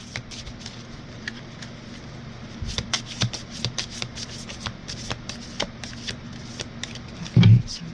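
Oracle cards are shuffled by hand for a reading, producing soft, repeated riffling and sliding flicks at close range over a low background hum, ending in a brief louder handling thump.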